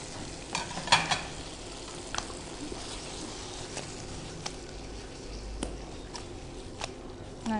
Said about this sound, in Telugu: సో ఫిష్ని కూడా ఇప్పుడు ఇలాగ టాస్ చేయడానికి యాడ్ చేసుకున్నప్పుడు ఎక్కువసేపు ఫ్రై చేస్తే